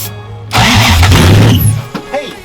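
A supercharged Toyota Supra engine cranks and fires up with a loud, close burst that settles into a rough idle over a couple of seconds, with a voice faintly underneath.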